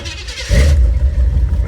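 Old car engine with a carburetor catching and starting, a short hiss giving way to a loud, close low rumble that holds steady, no talk.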